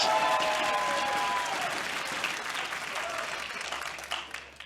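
A crowd in an esports arena at an LCS Summer Split match between Golden Guardians and FlyQuest gives sustained, loud applause that slowly tapers off, with faint voices beneath it.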